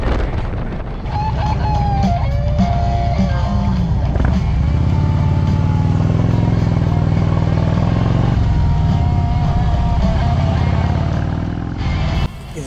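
Harley motorcycle ridden along the road through Banff, Alberta, its engine droning steadily and loudly up close, rising and holding through gear changes, with wind rush around it and the engine easing off at the end.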